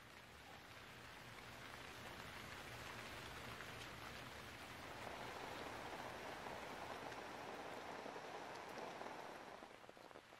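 Steady rain falls in a forest, a dense continuous patter on leaves and ground that grows slightly heavier midway, with no voices.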